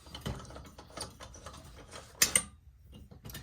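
The vent nut on a Coleman Northstar dual-fuel lantern, model 2000B750, is unscrewed, a run of small close metallic clicks and ratcheting scrapes with a brief sharper clink.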